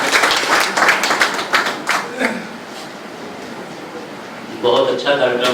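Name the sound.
audience applause at poetry gathering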